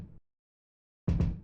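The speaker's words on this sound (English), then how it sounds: "and then this vinyl kick." Vinyl-sampled kick drum layer for a trip hop beat, a muffled thump with dusty texture heard alone, fading briefly, then returning as a quick pair of hits.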